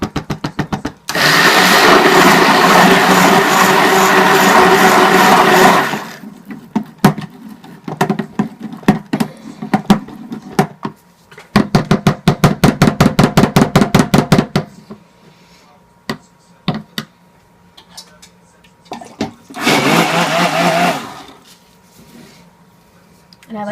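A stick blender whirs through soap batter as cocoa is mixed in for a mint chocolate cold process soap, loud and close in three bursts of roughly five, three and two seconds, with quiet gaps and faint clatter between.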